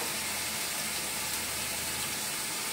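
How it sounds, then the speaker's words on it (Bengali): Onion frying in a pan, a steady, dense sizzle and hiss holding even and close for the whole short stretch, with no talk over it. "পেঁয়াজটাকে ভালো করে এখন ভেজে নেব।"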